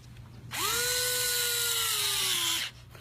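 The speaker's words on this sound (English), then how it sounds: "Drill it." A power drill runs in one continuous loud burst of about two seconds, its whine dipping slightly as it bites, starting and stopping abruptly with no talking over it.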